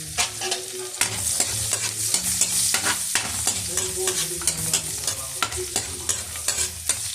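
Garlic sautéing in butter in a pan: a steady sizzle broken by regular scraping strokes of a utensil stirring against the metal, close and fairly loud, with no talk.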